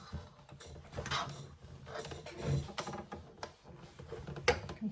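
A sewing machine stitching across the flattened base of a zip pouch, uneven mechanical whirring and clicking in short bursts with brief knocks and pauses as the fabric is handled, close and fairly quiet.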